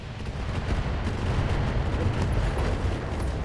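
Weapons fire from a mech in the Battletech video game, a dense, steady barrage of rumbling booms and crackling blasts filling the whole stretch without pause.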